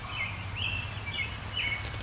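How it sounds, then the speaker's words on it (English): An outdoor bird calling near a morning meditation session, a few short rising whistled notes repeated at a close, moderate level over quiet ambient background. "The bird and the sound of the leaves rustling as the wind moves through them."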